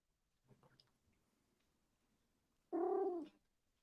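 A house cat lets out one clear, close meow after a few faint small rustles, otherwise quiet.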